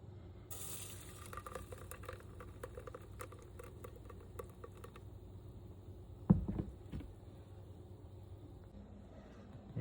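Fruit puree being worked through a kitchen strainer with a spoon, giving soft wet pattering and dripping with scattered light clicks and one sharper knock partway through.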